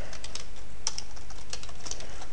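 Steady typing on a computer keyboard while entering a plot range in Mathematica, with a rapid run of close, crisp key clicks and a few sharper strokes and no voice.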